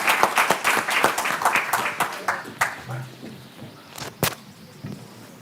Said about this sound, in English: ask you all an applause to our wonderful invitees